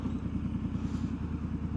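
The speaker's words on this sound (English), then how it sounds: "But when it's idling, it's not bad at all." A Triumph Scrambler 1200 XE motorcycle fitted with a slash cut silencer idles nearby, giving a steady, even low-pitched throb with a rhythmic exhaust pulse and no talking.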